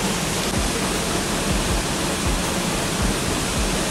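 Neer Garh waterfall in Rishikesh roars as a constant, dense rush of falling water, close and loud, with no other sounds standing out.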